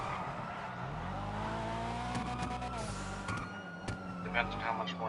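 Police car sirens wail in the video game GTA V amid a continuous engine drone and traffic, with someone talking over the chase.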